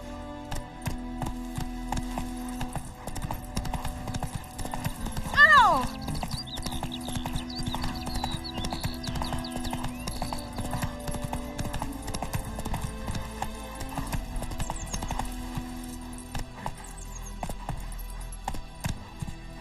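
Hooves of the horse Roach clip-clop at a gallop in a video game, a quick repeated rhythm running steadily under a layer of game music, with one brief louder burst partway through.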